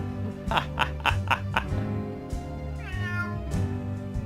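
A cat meows in a rapid burst of several short calls, then gives a longer, drawn-out meow, loud and close over a steady background of music.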